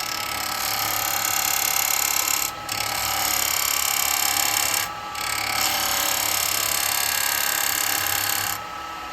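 A woodturning lathe with a 5/8 spindle gouge cutting a wooden side plate, giving a steady, fairly loud scraping hiss that stops briefly twice as the tool lifts off.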